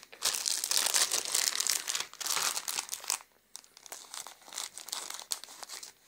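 Plastic packaging around a pair of rubber household gloves crinkles and tears as it is pulled open, a close, busy rustle that comes in bursts with brief pauses and no talking.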